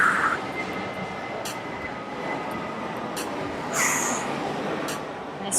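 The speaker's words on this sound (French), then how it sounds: "Il y a vraiment beaucoup d'avions qui passent derrière." Airplanes passing overhead outdoors during a workout, a distant steady jet roar in the background with faint intermittent clicks and rustles, no speech.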